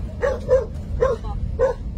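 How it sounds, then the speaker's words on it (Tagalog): A dog barks four times in a loose rhythm, close and clear, beside a car during driving practice, over a low steady engine and road rumble. "Diyos ko yung aso."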